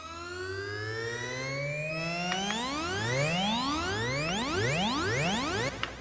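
Pioneer DJM-A9 DJ mixer running its Mobius effect: endlessly gliding tones that sweep steadily upward, layered harmonics climbing in pitch over about six seconds, loud and continuous with a brief click near the end.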